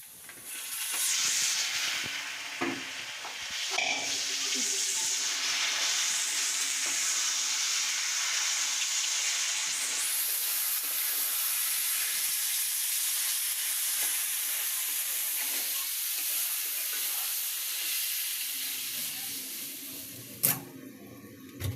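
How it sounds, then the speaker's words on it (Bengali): Onion and garlic fry in hot oil, giving a continuous close sizzle and hiss that runs steadily for about twenty seconds with a few clicks of utensils and no talk. "এখন আমি তেলের মধ্যে পেঁয়াজ রসুন ভেজে নিব"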